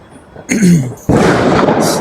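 A loud firecracker blast booms nearby in Bangalore after a short shout, followed by a sustained rushing roar and a faint hiss at the end.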